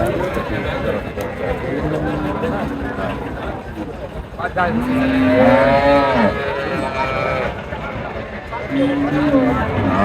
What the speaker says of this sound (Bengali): গাভি বাছুর আর কি